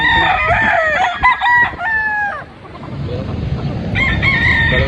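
A kanawayan crossed with Boston stag crows several times close by, the strained calls rising and breaking, with clucking and farmyard noise between and a second crow near the end.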